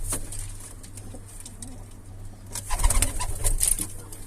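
Pigeons coo softly inside a loft, giving low, repeated throaty murmurs under a steady hum. Wings rustle near the end.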